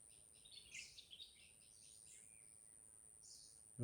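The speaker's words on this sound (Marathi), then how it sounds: "पक्ष्यांचे आवाज येतात, एवढी शांत जागा आहे." Faint, high bird chirps and calls come in short bursts over a quiet, hushed forest background, fairly distant.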